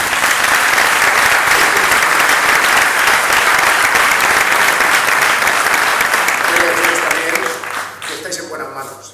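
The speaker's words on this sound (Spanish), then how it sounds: "Un aplauso por eso." A crowd at a public information meeting against a landfill in Albatera breaks into sustained, loud applause that holds steady for about eight seconds before tapering off near the end.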